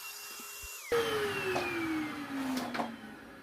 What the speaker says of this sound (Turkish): Bu süpürge ateşe dayanıklıdır.